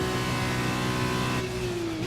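F1 2021 Formula 1 car screaming at well over 170 mph down the straight at Barcelona, a loud sustained high-revving engine note that shifts pitch near the end, heard close and alone.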